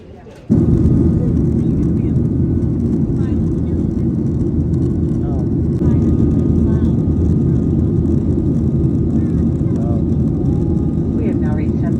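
Airplane cabin noise while climbing after takeoff: a loud, steady broadband roar that starts abruptly and holds without letup, with faint muffled voices underneath.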